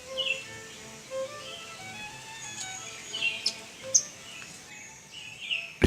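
Small green birds and blackbirds flit among hibiscus flowers, giving a steady stream of thin, high chirps and tweets over a soft outdoor background, with scattered brighter calls standing out now and then.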